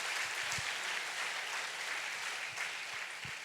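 A church congregation applauds during a sermon, a faint, steady wash of many hands clapping together throughout, distant and soft.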